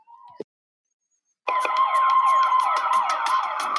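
After a short tone and a second of silence, a loud wailing siren sweeps up and down steadily, layered over a rhythmic electronic beat.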